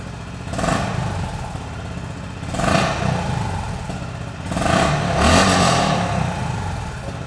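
A Honda CB350 RS with its 350cc long-stroke single revs up three times, each blip swelling from a thumpy idle to a raspy, sporty rise before settling back, loud and close with no voices.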